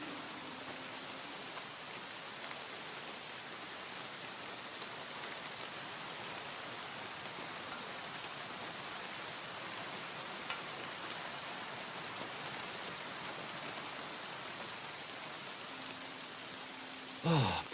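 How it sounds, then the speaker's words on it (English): Steady heavy rain pours down in the medieval game Kingdom Come Deliverance 2, a dense continuous hiss that stays even and loud throughout, with a brief thump near the end. "Oh, pissing down rain again."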